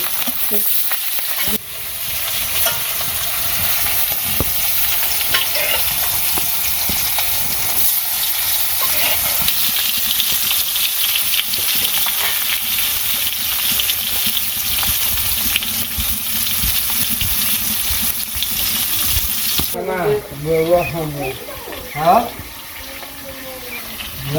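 Continuous loud sizzling of fish frying in oil in a pan, steady and hissing for a long stretch, with a person talking briefly near the end.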